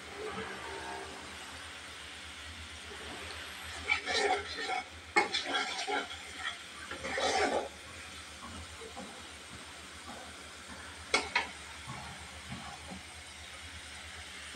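Pangas fish is stirred in a frying pan, giving scattered scraping clatters and brief bursts of sizzle over a low steady kitchen background.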